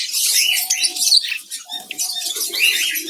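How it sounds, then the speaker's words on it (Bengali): Frightened Java sparrows in a colony cage flutter and hop about, with bursts of wingbeats and quick chirps close by, rising and falling in short flurries. "দেখেন পাখিগুলো ভয়ে এরকম লাফালাফি করতেছে"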